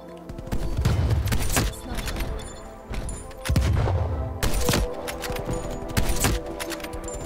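Loud gunfire in Black Ops Cold War sniper multiplayer: several heavy, booming shots ring out at irregular intervals over dense in-game battle noise, with no voices.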